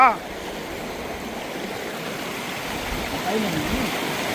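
Water from many bore wells pours down in a steady, continuous rushing stream, close and even in loudness, with faint voices in the background.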